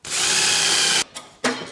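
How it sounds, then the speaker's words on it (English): Power drill boring a hole to mount a bracket on a Ski-Doo 700 Rev snowmobile tunnel extension, one loud steady whir lasting about a second, then two short bursts of the bit spinning again. "then I can drill a hole and put that back into place."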